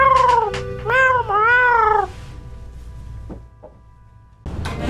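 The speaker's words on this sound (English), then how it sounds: "Oh, hi, Tall Cat. How's your day going" A cat meows several times in quick succession, loud and close, with drawn-out wavering cries, followed by quieter background noise and a brief rustle.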